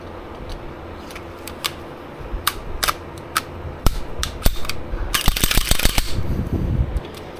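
An HK VP9 pistol gets a press check and trigger check, giving close, crisp metallic clicks and slide rattles. Scattered single clicks build into a dense flurry of handling noise near the end, with no talking.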